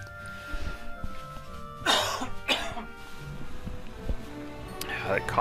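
A few sharp throat-clearing coughs in a Heroes 3 game session, two close bursts near the middle and another toward the end, over quiet background noise with faint game sounds.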